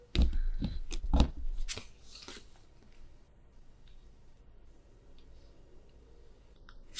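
Tarot cards being shuffled by hand, a quick burst of papery riffling and flicks at the start, then soft intermittent card rustles and taps close by.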